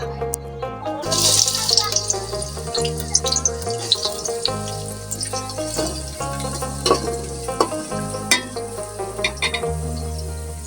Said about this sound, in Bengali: তেলটি গরম হয়ে গেছে এখন আমরা দিয়ে দিব পেঁয়াজ কুচি